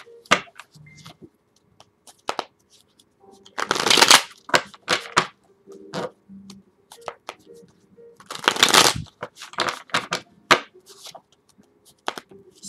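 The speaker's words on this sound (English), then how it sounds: "Now I'm going to get into the cards and you see me shuffling" Tarot cards are shuffled by hand in a quiet room, with bursts of riffling and flicking, soft taps and slides, some louder riffles clustered in the middle and near the end, close up and without talking.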